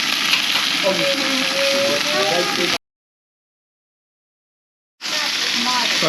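Tandoori chicken and other food sizzling on a barbecue grill in Palma, Mallorca, a steady close hiss and crackle broken by a short silent gap, with speech-like sound mixed in.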